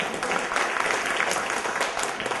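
Seminar audience clapping, a close, dense burst of many hands with slightly uneven bursts throughout a couple of seconds, no speech on top.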